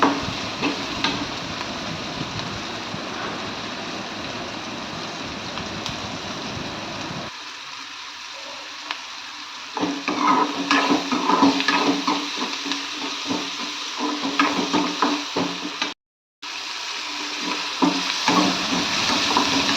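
Onions frying in a pan with salt and sugar added, a steady close sizzle with stirring scrapes throughout, heavier crackling bursts in the middle, and a brief dropout near the end.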